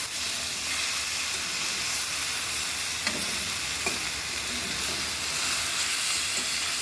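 Dried fish dropped into a hot frying pan while cooking with taro stolons, giving a steady, close, loud sizzle and hiss with a few faint stirring clicks throughout.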